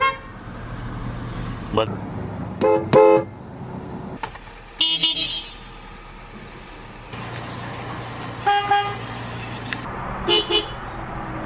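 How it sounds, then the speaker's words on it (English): Horn of a Saab car sounds in several short honks spread through the clip, close and loud over steady engine idle, with a person talking between the blasts. "Horn. Bah, bah."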